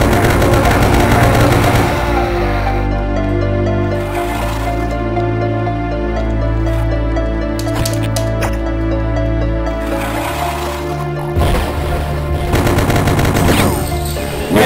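Gunfire from a weapon in Duke Nukem 3D, playing a Doom-inspired level, rattling loudly over a thick bed of game music and effects with a continuous, dense texture for most of the stretch.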